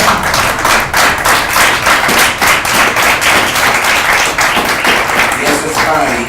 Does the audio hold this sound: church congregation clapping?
yes